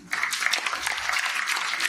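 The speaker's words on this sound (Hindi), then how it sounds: "एक बार उनके लिए भी तालियां।" An audience at a children's humorous poetry gathering during a Hindi fortnight event bursts into brisk, dense applause that continues steadily.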